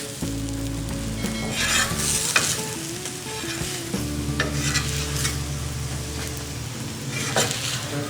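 Garlic lachha paratha, a layered wheat-flour flatbread, sizzles steadily on a hot pan after being flipped, a constant close frying hiss with a few soft scraping stirs, under continuous background music.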